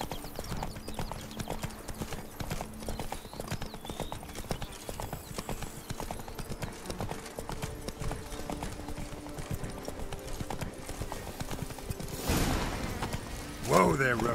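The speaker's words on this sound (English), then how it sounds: "Whoa there, Roach." Horse hooves clip-clop steadily through a video game world, a continuous rhythmic trot under ambient game music and atmosphere, with a louder burst of sound near the end.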